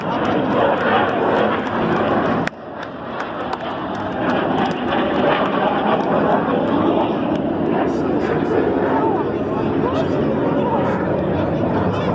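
Red Arrows display jets fly past at an air show with a loud, continuous roar that swells and shifts, heard under an announcer's running commentary.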